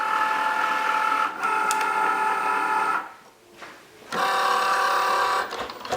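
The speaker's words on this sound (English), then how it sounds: "open up our Cricut. Lay our mat on, and it's going to pull the mat in." Cricut cutting machine pulling a cutting mat in, a mechanical motor whir with tonal hum that runs, pauses briefly in the middle, then resumes.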